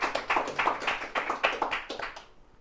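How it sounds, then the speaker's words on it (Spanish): A small congregation claps during a church service, a short run of distinct, rhythmic hand claps close by that thins out and stops near the end. "Un aplauso a mi esposa que está fluyendo aquí."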